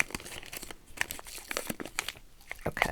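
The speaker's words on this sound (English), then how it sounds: "I just peeled the sticker back." A sticker peeled back to open a small plastic package of little gems, a close, quiet run of crinkly rips and crackles with brief pauses.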